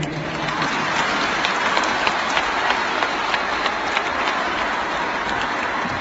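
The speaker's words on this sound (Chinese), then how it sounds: "让我们再一次热烈的掌声" A large audience at a Buddhist Dharma talk in Jakarta bursts into dense, sustained applause, many hands clapping steadily and evenly throughout at a fairly loud, roomy distance.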